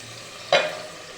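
A spoon stirring beaten eggs into onions already frying in a pan: one short scraping stir with a brief burst of sizzle, close and fairly quiet, alone.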